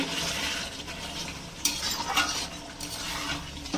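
Fish head curry made with a large katla head is stirred in a pot after hot water goes in: a continuous close-up bubbling hiss with occasional scraping knocks of a spoon against the pot.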